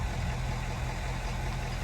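A Ford truck's engine idles at night with a steady, low, even rumble that holds without change throughout and no voices over it.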